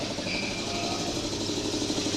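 Motorcycle engine running at idle during an overhaul, a steady continuous mechanical hum with no speech over it.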